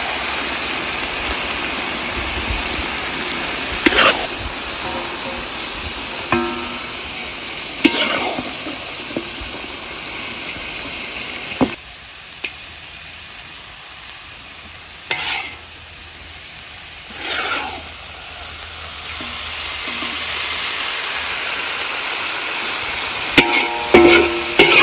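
Sambal balado, a chilli paste, sizzles and fries in a pan while a utensil stirs and scrapes through it in repeated strokes, loud and close, with no talking.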